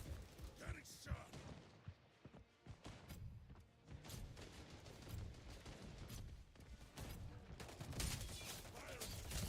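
Rapid bursts of video game gunfire with impacts and clatter during a tense overtime round, running almost nonstop under a player's excited talk.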